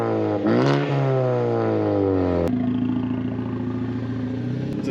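A turbocharged Ford Focus ST engine revs and settles into a strong, close idle rumble, its pitch climbing then easing before a sharp shift to a steady lower drone.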